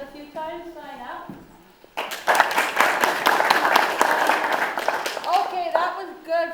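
Live studio audience breaking into loud applause on cue after a brief spoken intro, sustained clapping from many hands for several seconds before tapering as a voice returns.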